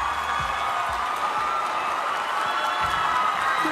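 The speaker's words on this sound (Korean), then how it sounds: "여러분 다시 한번 축하의 박수 부탁드리겠습니다" An audience at an acting-school lecture congratulates an award-winning actor with sustained applause, steady clapping with some crowd cheering and a few low thumps mixed in.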